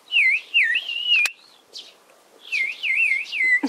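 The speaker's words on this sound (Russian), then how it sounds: "Чирикают, да?" Small birds chirp and tweet outdoors in bright, warbling whistled phrases, two bursts separated by a brief pause with a sharp click between, fairly close and clear with no talking.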